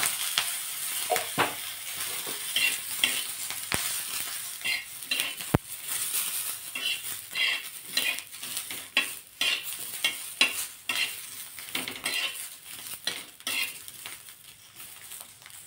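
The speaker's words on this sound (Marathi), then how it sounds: "आता या मिरच्यावर थोडंसं तेल टाकून घेऊ आणि मिरच्या भाजून घेऊ।" Green chillies roast in a little oil in a pan, with soft intermittent sizzling and repeated scrapes and clinks of a spatula stirring against the metal, close up and fairly quiet.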